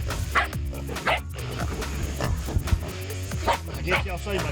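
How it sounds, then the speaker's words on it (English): A catch dog barks and yips repeatedly at a farm swamp barbecue, sharp barks recurring every second or so amid ongoing talk and background noise. "I guess y'all see my catch dog down there, don't you?"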